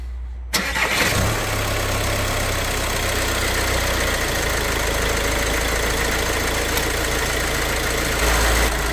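A self-built campervan's engine, recently repaired for fault code P2563, turns over and catches, then settles into a steady, unchanging idle hum that continues close by.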